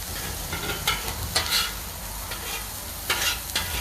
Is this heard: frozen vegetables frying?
yes